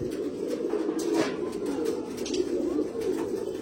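Pigeons kept for winter flying coo continuously in a dense, overlapping chorus of many birds close by, with occasional higher chirps and wing sounds above the steady throb.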